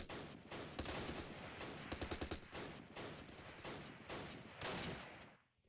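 Gunfire from the WWII strategy game Close Combat: The Longest Day at Pegasus Bridge, dense rattling machine-gun bursts and rifle shots overlapping steadily, then cutting off abruptly at the end.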